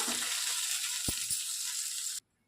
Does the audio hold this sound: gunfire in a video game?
no